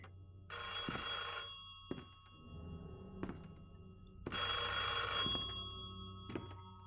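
An old-style telephone bell rings in two loud bursts inside a VR horror game, separated by a stretch of quiet with scattered thumps and low background hum.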